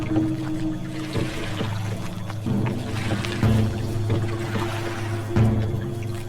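A boat pulling up to a riverbank in an animated story, water sloshing and lapping around the hull with repeated swells over a steady low rumble, close and fairly loud, no talking.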